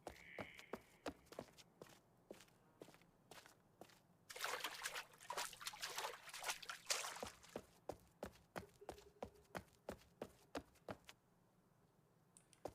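In Uru: Ages Beyond Myst, steady footsteps click along while a stretch of rushing, trickling water swells up close for a few seconds, then fades as the steps continue.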